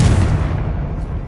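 A Confringo fire spell cast in Hogwarts Legacy bursts out as a loud, booming blast with a heavy low rumble that fades over about a second, with no talk.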